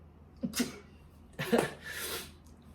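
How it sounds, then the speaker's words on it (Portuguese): Two sharp sneezes, close and a second apart, the second trailing into a breathy exhale. "Vou espirrar de novo."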